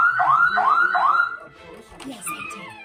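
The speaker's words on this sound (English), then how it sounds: "the alarm went off on the house" A loud electronic house alarm wails in rising, repeating sweeps, then stops and gives way to fainter clattering and a brief voice-like sound.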